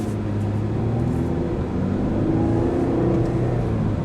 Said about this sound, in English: now the GMC Acadia Denali. How does it drive? Let's find out.